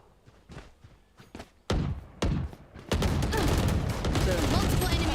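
Video game gunfire: scattered single shots and short bursts, then loud, sustained rapid fire that carries on to the end.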